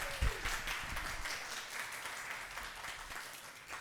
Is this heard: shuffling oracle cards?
no